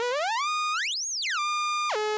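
Buzz Zone polyphonic wavetable synth on iPad playing a bright, buzzy tone whose global pitch sweeps up, peaks, slides back down, holds, then drops lower, loud and clean with no other sounds.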